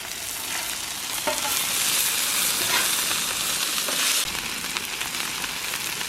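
Onions and burgers sizzle in a hot pan, a loud continuous frying hiss that swells in the middle and then settles, with no talk over it.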